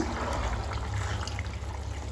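Millet upma simmers on a stove in a quiet, continuous soft bubbling and watery hiss, faint and steady throughout.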